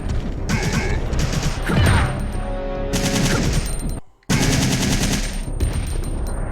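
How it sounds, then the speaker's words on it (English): Rapid automatic gunfire in a shooter video game, sustained bursts of shots with mechanical clatter, loud and close, broken by a brief silent gap before the firing resumes. "Shoot him."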